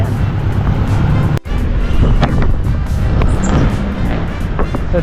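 Road traffic rumbles past at Sapote, heading toward SM Bacoor, in the dark before dawn, heard while cycling: steady loud engine and tire noise with wind buffeting, plus one sharp brief thump.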